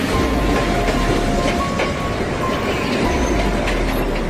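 A KRL commuter train runs steadily with continuous rumbling rail noise and low clatter of wheels on track, loud and close throughout with no talk.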